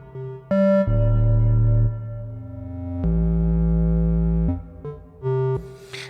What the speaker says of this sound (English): And perhaps we can add some reverb.